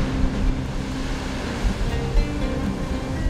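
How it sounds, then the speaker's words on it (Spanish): Atlantic Ocean waves break steadily against a rocky shore near Rabat, Morocco, a continuous loud roaring wash of surf with gusty wind noise and no voices. "donde las olas rompen en la rocosa orilla"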